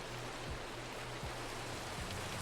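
Steady rain falling in the Minecraft video game, a dense, even wash of noise that never lets up, with no voices and no other sounds.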